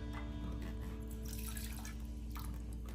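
Water poured out of a vacuum cleaner's collection tank, a steady liquid splashing and dripping stream running continuously at close range with no voices.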